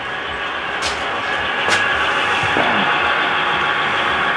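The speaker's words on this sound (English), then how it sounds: "over here we have trains running underneath the staging yard" Model trains running on track beneath a layout's staging yard, a steady, fairly loud rumbling roar of wheels and motors with a few faint squeaks and clicks over the continuous drone.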